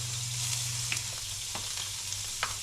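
A small knob of butter sizzles in a frying pan with bass and a splash of lemon juice, a steady close frying hiss with a few faint pops and clicks.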